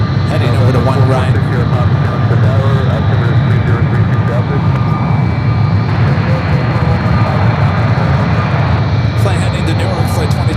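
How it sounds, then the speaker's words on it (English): A United Boeing 757 jet takes off from runway 1 right at San Francisco airport with a loud, sustained engine roar that stays steady from start to finish. "We do have a United 757 heading over to one right."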